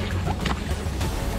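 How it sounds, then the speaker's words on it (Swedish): A snowmobile glides down into open water during a competitive water-crossing duel, a continuous rushing, splashing wash with broadband engine and spray noise, fairly close and steady. "Där glider skotern ner i vattnet."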